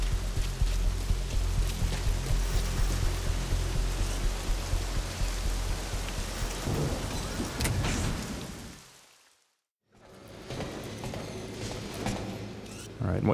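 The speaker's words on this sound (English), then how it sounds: "looks like it's started to rain" Rain falling at Mother Base in Metal Gear Solid V: The Phantom Pain, a steady dense hiss of drops on surfaces that fills the scene, cuts out briefly, then resumes.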